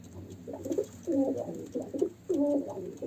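Pigeons coo in a breeding loft, a close series of soft, throaty rolling calls repeating in uneven bursts over a quiet background.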